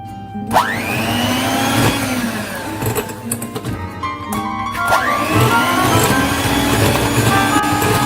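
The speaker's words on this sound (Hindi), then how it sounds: "इसे हमने तकरीबन 3 मिनट तक बीट किया है ताकि अंडे और चीनी अच्छी तरह से मिक्स हो जाएं" Electric mixer beating two eggs and a cup of sugar in a bowl, a loud close motor whine that rises in pitch as it spins up, dips, then revs again, continuous throughout.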